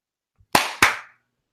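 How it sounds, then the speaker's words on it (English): Two sharp hand claps ring out close and loud in quick succession after a countdown, with a soft tap just before them and nothing after. "I am ready whenever you are, sir, to count down and clap"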